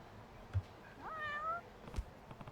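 A cat in the video game Judgment gives a single short, soft meow, faint and alone over a quiet background.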